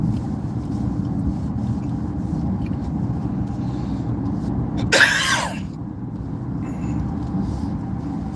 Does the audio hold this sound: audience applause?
no